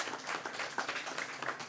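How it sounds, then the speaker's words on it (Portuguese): An audience claps at a gathering, a short burst of dense, steady applause from many hands at moderate distance. "Eu queria pedir uma salva de palmas aí"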